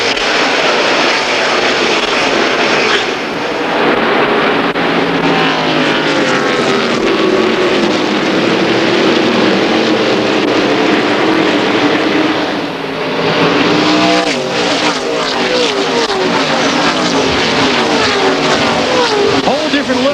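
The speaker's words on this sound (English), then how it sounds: "With those big full-body cars coming through the corners" Busch North Series full-bodied stock cars race at New Hampshire, a dense, loud roar of engines that swells and recedes as the pack passes through the corners, with a commentator talking over it.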